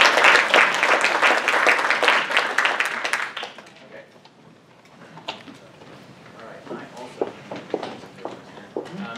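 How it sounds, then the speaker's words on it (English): Audience applause at a GIS startup showcase, strong clapping from a room of people that fades after a few seconds into scattered claps and murmuring voices. "let's give a round of applause for our"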